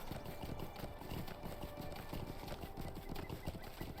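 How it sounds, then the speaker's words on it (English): Horse hooves clip-clop steadily and continuously at a quick, even pace in Lord of the Rings Online as a mount travels through the Evendim region, with faint tonal background sound. "We can hear our horse."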